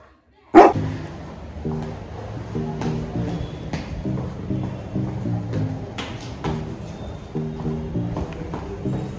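A dog at home over the Christmas holidays barks steadily and fairly close after a sharp opening thump, with repeated rhythmic barks and yips running for several seconds without talk.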